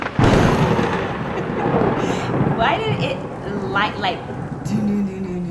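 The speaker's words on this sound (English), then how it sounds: "lightning just hit as soon as I sent the message? I sent the message, and then lightning, like the sound and everything outside my house" Thunder from a lightning strike just outside a house, a loud broadband rumble rolling through the whole stretch, with wind-like noise and faint voices or sounds over it.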